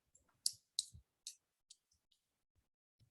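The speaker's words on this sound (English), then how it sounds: "he's typing." Sparse computer keyboard clicks, a handful of separate taps at uneven intervals, faint and close in an otherwise quiet room.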